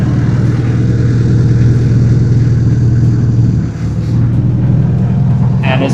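A Rippa excavator's engine runs loud and close with a steady low diesel drone and a brief dip partway through.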